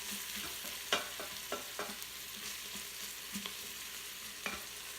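Spices and coconut flakes with ginger browning in an Instant Pot, giving a soft, steady sizzle with scattered scraping stir sounds and light clicks of a utensil against the pot, no voices.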